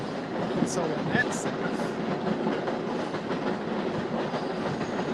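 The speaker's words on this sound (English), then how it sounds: "situations where trains are continuously going by." Trains pass by continuously, a steady rail rumble with clattering wheels filling the background while a person talks over it.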